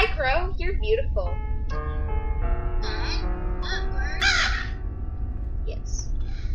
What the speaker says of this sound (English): Ooh, hi Crow, you're beautiful.